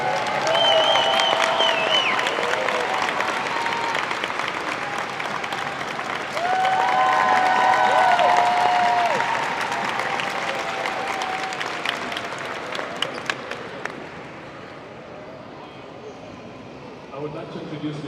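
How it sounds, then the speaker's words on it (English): Outdoor crowd applause and scattered cheers for Natalia at a live New York City street gathering, loud and sustained with voices mixed in, thinning to a few claps before fading out near the end. "Please, another round of applause for Natalia."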